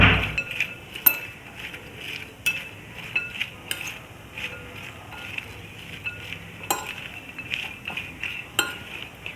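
A spoon mixes potato lachha pakora batter with salt and crushed red chilli in a bowl, giving repeated light clinks and scrapes against the bowl at an irregular rhythm, close and fairly quiet.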